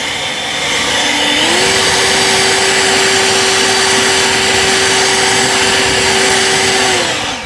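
An EGO 765 CFM battery leaf blower runs steadily while clearing leaves, a loud continuous whooshing roar with a whining motor tone that rises in pitch early on and holds.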